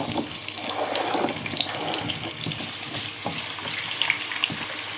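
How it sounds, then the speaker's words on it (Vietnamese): Oil sizzles and crackles steadily as carrots and potatoes fry in a pan, a dense hissing texture with occasional pops, close by and continuous. "Mình sẽ cho vào đây hơi nhiều dầu một chút để mình chiên"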